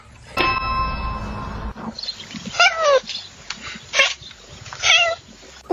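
A cat meows in several short, sharp cries spaced about a second apart, following an opening ringing metallic tone, close and fairly loud.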